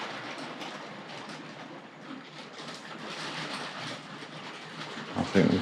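Tri-ang Railways RS.2 model express passenger train running on a layout's outer line, a steady close rattle and clickety-clack of small wheels on track, alone without talk.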